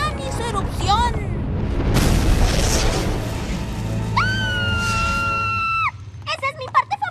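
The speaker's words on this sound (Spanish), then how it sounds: "un día crucial, el volcán hizo erupción." A cartoon volcano erupts with a loud, sustained rumbling blast that swells and holds for several seconds, while high screaming voices and excited exclamations sound over it.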